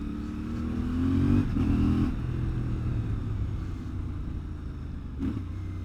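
A CF Moto 450MT parallel-twin adventure motorcycle on a test ride, its engine humming steadily with a brief rise in revs, loud and close.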